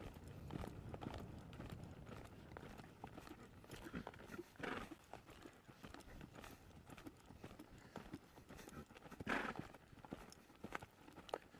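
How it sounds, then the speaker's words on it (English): A horse's hooves clip-clop in a loping rhythm, steady repeated beats close by as the horse moves at a lope, with a brief stumble and occasional heavier footfalls. "So we're gonna go ahead and step him up here and lope him off."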